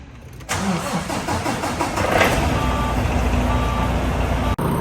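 A truck engine cranks and catches, then runs at a steady idle, loud and close, with a faint repeating beep over the running engine before it cuts briefly at the end.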